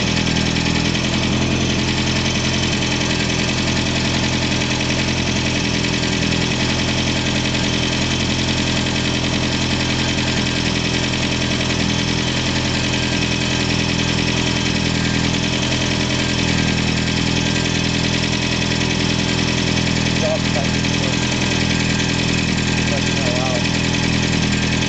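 A Ford 2.3 turbo engine, fitted in a 1988 Mustang and run for the first time, idles loud and steady for a long stretch. It is close by, with a constant, even drone throughout.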